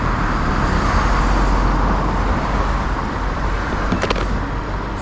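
Steady road traffic on a street, a continuous broadband rumble of cars passing close by with no pauses, plus a couple of brief sharp clicks near the end.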